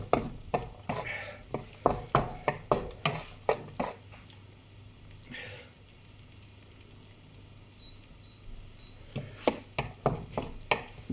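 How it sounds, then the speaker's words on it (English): Onions and garlic fry in a pan, a steady sizzle punctuated by a rhythmic series of sharp stirring knocks and scrapes, pausing midway before another brisk burst. "Get them onions and that garlic caramelising"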